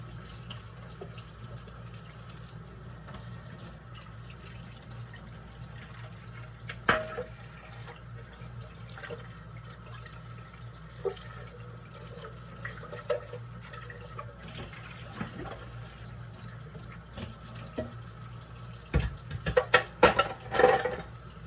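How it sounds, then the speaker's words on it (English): Kitchen sink tap running while a dish is washed, a quiet steady water stream with occasional clinks and sharper splashes and clatter building toward the end, no talking. "Don't want to have to wash that later, so I just went ahead and washed it."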